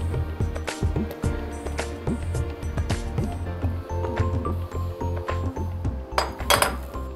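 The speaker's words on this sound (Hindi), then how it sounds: "घी हमारा गर्म हो चुका है, इसमें हम डालेंगे रागी का ये आटा और इसको हम मिला लेंगे।" Ragi flour being stirred into hot ghee in a pan for a millet recipe, with repeated clinks and scrapes of a utensil against the metal pan at a steady working rhythm, close by and moderately loud.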